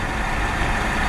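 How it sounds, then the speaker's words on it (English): A bus engine running loud and steady, a continuous low rumbling drone heard from inside the vehicle with no voices over it. "Goddamn, this bus is loud."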